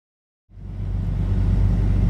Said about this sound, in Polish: samochód ruszył, jedzie, nie wiem, może 10 na godzinę